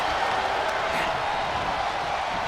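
In the WWE 2K26 video game, a wrestling arena crowd sends out a steady, dense roar of cheering. A commentator talks over it.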